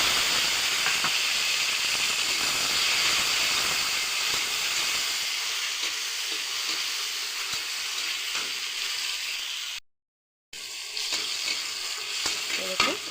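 Tomatoes hit hot oil in a pan for vegetarian ghugni, giving a loud continuous hissing sizzle that fades gradually, cuts out briefly, then resumes with a faint clink.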